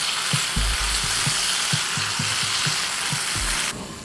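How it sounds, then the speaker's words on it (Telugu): Long-cut brinjal pieces frying in a pan with a constant loud sizzle, a rhythmic series of soft knocks under it, then the sizzle suddenly muffled near the end. "మూత పెట్టుకుని వంకాయలు మగ్గే వరకు వేయించుకోవాలి."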